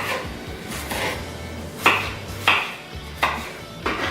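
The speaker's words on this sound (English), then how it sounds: "Onions are a little harder to cut than green peppers, and cut them again into smaller pieces like this" A knife chops an onion into small pieces on a board during home cooking, a handful of sharp, separate cuts spaced roughly half a second to a second apart, close and clear over a low background hum.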